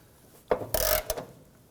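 A ratchet with a 15mm socket breaks a rusted bolt loose on the rear upper control arm of a 2008-2011 Ford Focus, giving a sharp click followed by a short loud grinding rasp and a final click, close up.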